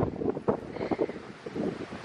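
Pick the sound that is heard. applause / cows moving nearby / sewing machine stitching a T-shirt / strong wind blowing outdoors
strong wind blowing outdoors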